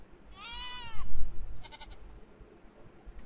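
Small baby goat-like creatures in Ark Survival Evolved give a loud, wavering, goat-like bleat, followed by a shorter, fainter second bleat, over low background rumble.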